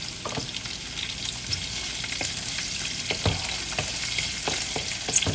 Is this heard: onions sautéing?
yes